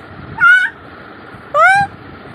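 A young child imitates a bird call with two short, honking, goose-like squawks about a second apart, close and clear against a quiet room.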